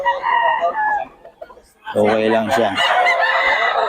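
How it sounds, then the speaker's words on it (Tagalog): A rooster at a poultry spot in Bocaue clucks in short bursts, then lets out a loud, close crow, with someone talking over the birds. "Gulo nitong manok."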